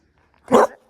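A puppy lets out one short, sharp bark up close, with nothing else heard around it.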